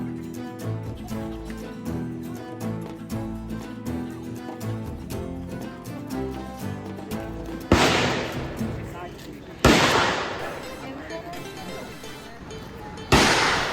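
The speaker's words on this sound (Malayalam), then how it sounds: "അപ്പോൾ നമ്മൾ AK-47 എടുത്ത് ട്രൈ ചെയ്ത് നോക്കി." Three loud, sharp AK-47 rifle shots ring out at a national defence sports shooting range in Vietnam, spaced a few seconds apart, after a stretch of background music.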